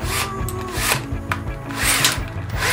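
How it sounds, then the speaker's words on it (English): Power drill boring a 3/8 inch bit through wood during a picnic table and bench build, a steady loud whirring grind with shifting pitch and brief bursts of strain throughout, no voices. "drill bit again and drill through, making sure it's the same hole in the same spot."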